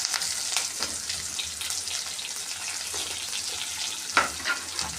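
Onion, green chili and curry leaves sauté in oil over a low flame for rava upma, a soft, steady hiss close by broken by occasional light clinks of stirring.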